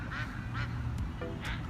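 A duck quacks close by in several separate nasal calls, spaced through a short stretch of quiet background.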